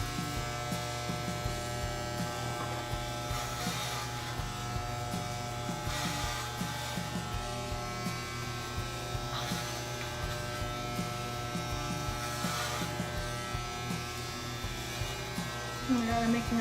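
Electric hair clippers fitted with a number 6 guard buzz steadily and close up while shaving a head. The drone is continuous, with the pitch shifting slightly as the blades move through hair.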